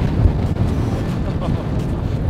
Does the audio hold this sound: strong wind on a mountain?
yes